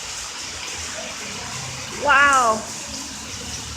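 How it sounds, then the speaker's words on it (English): Heavy rainwater gushing down like a small waterfall during a massive rainstorm, a steady broadband rush that runs throughout, with a brief spoken exclamation near the middle. "It looks like a little waterfall right there."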